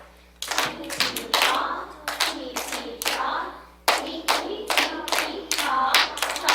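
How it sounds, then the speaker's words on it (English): Students in a classroom rhythm chain clap out a rhythm, sharp close hand claps landing in quick bursts and short patterns with brief pauses between groups, loud and near with no talking. "so very successful at clapping the rhythm"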